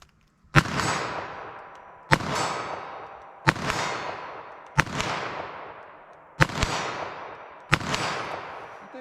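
Six loud .22 WMR shots from a 3-inch revolver firing Federal Punch ammunition, evenly spaced about a second and a half apart outdoors, each sharp crack trailing off in a long echoing decay.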